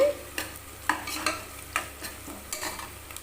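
Onions sauté in a pan under a soft, steady sizzle, while a spoon stirs in a quick series of scraping strokes. The scrapes come in bursts several times a second and are heard up close.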